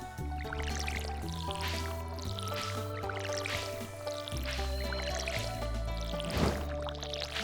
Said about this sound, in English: I'll just haphazardly water it.